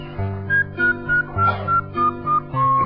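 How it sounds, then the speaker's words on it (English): A video game character whistles a melody over the end-credits music, clear tuneful notes rising above a steady musical backing. "I like it when he whistles."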